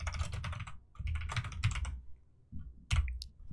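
Computer keyboard typing C++ code, heard as rapid close-up bursts of key clicks separated by brief pauses, with no talking.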